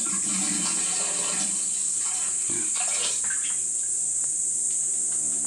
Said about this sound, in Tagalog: buhos natin siya yung suka. Kahit anong klaseng suka.